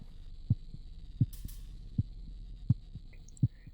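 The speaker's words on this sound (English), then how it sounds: "Upon entering, a faint heartbeat can be heard." Faint heartbeat in The Cat Lady, heard inside a locked house: soft, low thumps at a steady, slow pulse, five beats, over a quiet droning hum.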